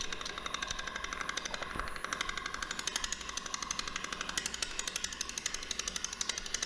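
A woodturning gouge chatters rapidly against the rough exterior of a Red Mallee burl spinning on a lathe while the bowl blank is roughed out, a steady, fast tapping cut with no talking.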